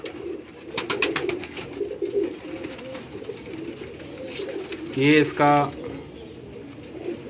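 Paired pigeons coo on a rooftop in soft, throaty bursts, with a flutter of wings partway through, while someone speaks nearby.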